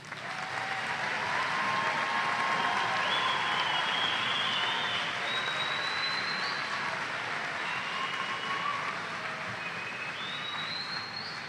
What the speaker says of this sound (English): Please join me in recognizing these impressive individuals for their accomplishments by offering them a round of applause